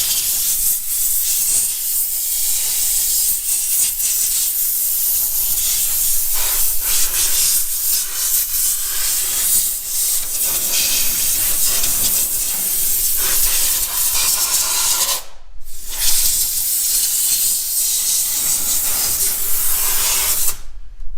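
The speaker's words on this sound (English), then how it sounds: "I'm going to grab a blow gun real quick and blow all the smudge out of the way" A handheld air blow gun blasts debris off a 1999-2003 Ford 7.3 Powerstroke diesel engine, giving a loud, continuous hissing rush that runs nearly unbroken, with one short pause partway through.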